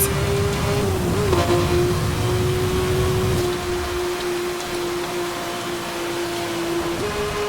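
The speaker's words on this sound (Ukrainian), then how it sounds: "Прискорюємось" A steady car engine drone in Need for Speed: Hot Pursuit (2010) with a sustained tone that dips and climbs as it accelerates, heard under a constant hiss of rain.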